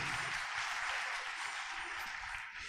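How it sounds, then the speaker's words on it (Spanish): A church congregation claps steadily and loudly together, a dense unbroken wash of applause that eases slightly just before the end. "Fuertes palmas,"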